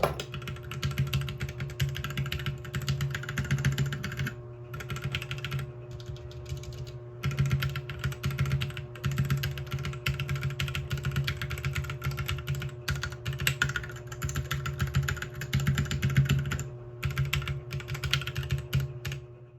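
Continuous typing on a modified mechanical keyboard whose case was forced into place with tightened screws, close and steady with a slight metallic clang behind the keystrokes, no voices.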